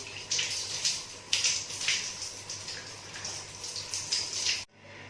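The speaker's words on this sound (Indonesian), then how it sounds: "Lalu kita putar keran dengan menggunakan siku. Kita basahi tangan hingga ke ujung siku." Tap water running steadily for several seconds while hands and forearms up to the elbows are wetted during a clinical handwashing routine, with splashing pulses as the hands move under the stream before it stops abruptly.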